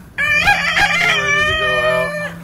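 A rooster near a farm duck pen crows once, close and loud, in a long drawn-out call that holds steady before tapering off, with no voices over it.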